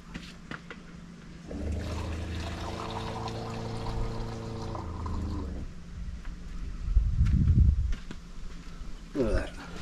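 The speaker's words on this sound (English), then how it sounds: "I'll put half a litre in." Half a litre of water poured outdoors on a shake-down camping trip, a steady close gurgling pour lasting several seconds, then splashes and handling noises, with no talk over it.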